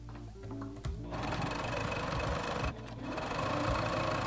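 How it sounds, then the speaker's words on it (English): A sewing machine stitches a seam on a tote bag sewn from fat quarters, backstitching at the start and end. It makes a close, fast mechanical whir that stops briefly twice between steady runs. "I'm gonna backstitch the beginning and end."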